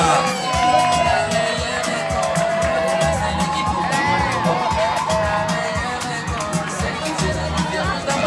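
A crowd at a school jubilee celebration cheers and whoops in a steady, dense roar, with scattered shouts and a raised voice carrying over the noise.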